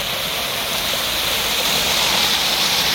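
Clean water gushes hard and steadily out of a pipe on a canal in Solapur and pours into a dirty drain, a loud, continuous roaring rush close by with no voices.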